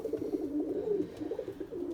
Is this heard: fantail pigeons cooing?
yes